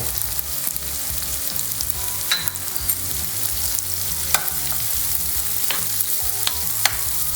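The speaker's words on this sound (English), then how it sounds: "You want to let this cook until those potatoes start to get nice and golden brown all around" Potato and egg hash frying in a pan with flat leaf parsley, a steady close sizzle with occasional sharp crackles and pops rising above the hiss, no voices.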